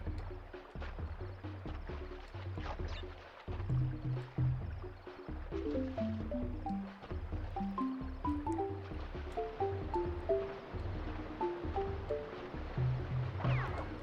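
Calm water level from the Crash Bandicoot video game: a steady bed of lapping, flowing water under a looping melodic game tune with plucky low notes, continuous and moderately loud throughout with no talking.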